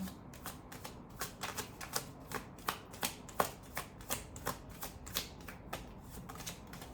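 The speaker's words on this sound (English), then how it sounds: "Let's pull some cards" Tarot cards being shuffled up close, a steady run of crisp riffling flicks and soft slaps repeating for several seconds with no talking.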